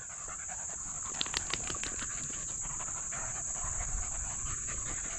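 A puppy pants rapidly and steadily close by outdoors, a quick rhythmic breathing that carries on throughout over a constant high-pitched background hum.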